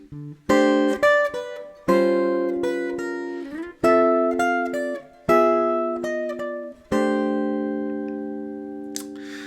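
Clean electric jazz guitar chords ring out one after another, each struck and left to sustain, with a chromatic inner line shifting between them.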